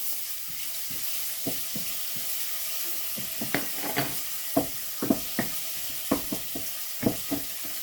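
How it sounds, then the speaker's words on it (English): Garlic frying in hot oil while a spicy meat pie filling is prepared, with a steady low sizzle broken by scattered crackles and spits that come closer together and louder toward the end, close up and with no voices. "I'll add the garlic inside the oil"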